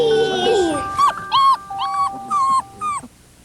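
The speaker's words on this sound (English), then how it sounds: "Puppies!" Puppies whimper in a series of high, wavering cries, about five short whines in a row after a brief stretch of other sound, close and fairly loud.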